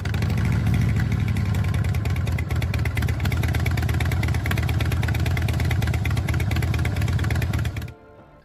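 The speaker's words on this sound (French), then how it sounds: "C'est aussi le son d'échappement breveté de Harley." A Harley-Davidson V-twin motorcycle runs close by, its exhaust giving a loud, deep, lumpy rhythmic pulse at idle with a brief rev near the start, before cutting off abruptly near the end.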